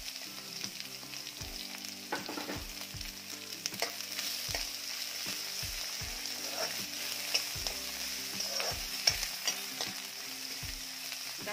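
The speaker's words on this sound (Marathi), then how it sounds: "कांदा देखील छान असा रंग बदलेपर्यंत परतून घ्यायचा आहे, भाजून घ्यायचा आहे." Onion frying with green chili in a pan, stirred until it browns: a soft, steady sizzle under a regular series of low scraping stirs from a utensil, close by, with no voices.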